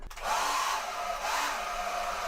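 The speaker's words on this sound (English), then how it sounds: "Look at the hairdryer." A powerful hair dryer in a hotel bathroom blows steadily at close range. A click comes first, then a loud continuous whoosh with a sustained whine that holds to the end.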